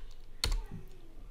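A single sharp keypress on a computer keyboard, typed while entering a command in a command prompt window to check the installed Java version; one brief click followed by a faint thud, close and otherwise quiet.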